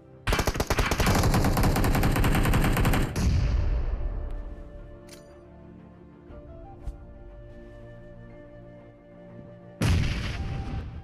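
Tommy gun fire in a mobile battle royale shooter rattles in a dense, loud sustained burst for about three seconds, then a lull with faint game ambience and a few distant pops before another heavy burst erupts at the end.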